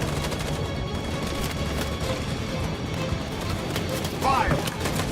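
Gunfire in a Detroit: Become Human shootout, a dense ongoing rattle of shots under a steady busy background, with a short whistling sweep near the end.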